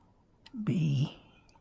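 A Primarflex II camera shutter is cocked and then fired once, giving a single short mechanical click with a faint rattle under it, close and quiet.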